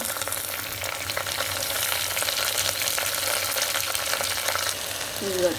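Malabar spinach greens fry for dal in a pan, a steady broadband sizzle with faint stirring running throughout at moderate volume, and a brief spoken phrase near the end.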